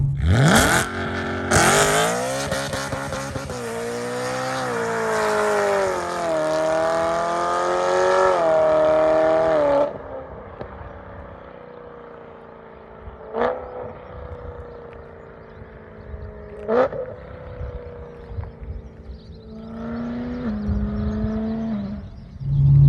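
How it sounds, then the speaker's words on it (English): A BMW E92 M3 with a straight-piped exhaust revs hard and loud, its pitch climbing through several pulls before it drops to a lower burble with sharp blips and a final rise. "This is the loudest E92 I've ever driven."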